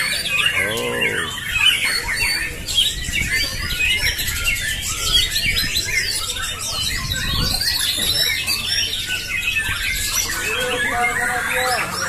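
A white-rumped shama sings in a bird contest at Telaga Cibinong, bursts of varied, rapid whistles and harsh chattering notes among other caged birds, with people talking in the background.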